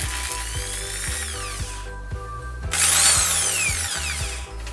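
A corded Bosch GSB 13 RE 650 W impact drill runs loudly with a rapid hammering rattle, its motor pitch rising briefly as it revs harder, close by.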